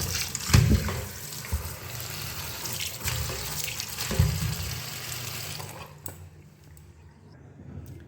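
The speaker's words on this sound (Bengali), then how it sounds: "আমগুলোকে আমি ধুয়ে নিচ্ছি ভালো করে।" Raw mangoes being rinsed under a running kitchen tap, a steady close splash of water into a sink with a couple of louder bursts, the flow easing off near the end.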